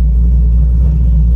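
A custom 2010 Chevrolet Camaro gives off a deep, loud, steady engine rumble heard close up, constant throughout the short moment with no revving.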